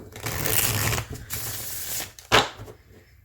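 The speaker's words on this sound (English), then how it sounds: "Let's give it a shuffle and see how it shuffles." Close riffle shuffles of a Rider-Waite-Smith style tarot deck, a couple of rapid fluttering riffles followed by a sharp bridge snap, no talk.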